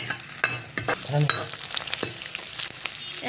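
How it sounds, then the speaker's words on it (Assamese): Green chillies frying in a pan for an Assamese-style paratha, a soft crackling sizzle with a few sharp spatula clicks and stirring scrapes, close and fairly quiet. "এইখিনি এতিয়া মই অলপমান ভাজি লম ৰঙা হোৱালৈকে"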